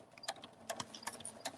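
A sewing machine stitches a fabric cuddle bunny in short, quiet mechanical bursts of clicking and whirring.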